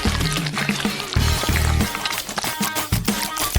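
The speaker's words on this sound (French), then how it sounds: "Maintenant, je vais verser le chocolat sur le gâteau." Chocolate pours onto a cake, heard as a soft, wet stream that comes in short uneven bursts with quiet gaps between them.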